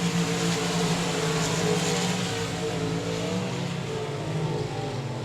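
Hot rod race cars roaring around the oval at 67 Speedway of Texarkana, a loud sustained engine drone with revving pitch shifts as the pack runs, no voices over it.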